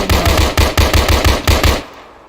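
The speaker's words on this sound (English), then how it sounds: "Yep, there's gunfire." Machine gun fire in the military video game Arma 3, with a close, loud burst of about eight rapid, evenly spaced shots that ends abruptly and rings out into a short decaying tail.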